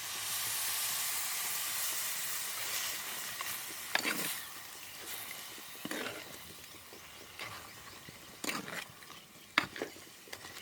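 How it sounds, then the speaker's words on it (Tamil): Milk poured into a simmering crab curry in a village kitchen gives a steady hiss and bubbling close by, broken by several sharp stirring clatters and scrapes, with no speech. "இப்போ நண்டு கறிக்கு தேவையான பாலை சேர்த்துக்கொள்ளுறேன்."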